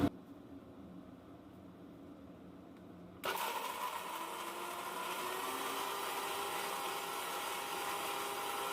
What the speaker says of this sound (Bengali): তো এটা ফার্স্ট আমি ব্লেন্ড করে নিই